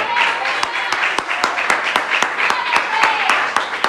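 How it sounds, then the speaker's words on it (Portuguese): A church congregation claps in quick, rhythmic unison, loud and steady, with voices mixed in over the beat. "Pode glorificar o Senhor bem alegre com as palmas de vitória."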